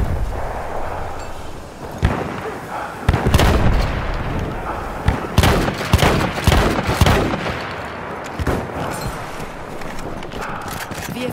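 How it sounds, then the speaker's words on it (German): Video game combat with a grenade explosion and gunfire: loud repeated bursts and shots in quick succession over a busy battle din, with voices shouting underneath. "Ich werfe Granate! Aufpassen! Granate raus!"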